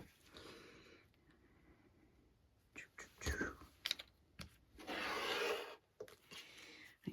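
A blade trims fabric on a cutting mat, producing soft scraping and slicing strokes with a few sharp clicks and one longer, louder pass, all quiet and close.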